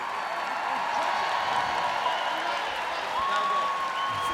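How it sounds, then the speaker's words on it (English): Audience applause in the arena at the Westminster Dog Show during Hound Group judging, a steady broadband wash of clapping held at even volume throughout, with a faint tonal hum in the hall. "Ladies and gentlemen, please give a warm round of applause for Mrs. Pat Trotter."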